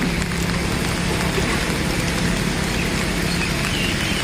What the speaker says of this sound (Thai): ฝนตกตลอด